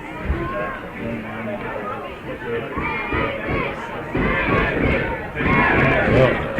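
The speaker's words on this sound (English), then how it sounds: "NAC crowd wakes up for a second." Spectators at a girls' high school soccer semifinal cheer and shout in a noisy, swelling crowd din that grows louder near the end, with talking mixed in.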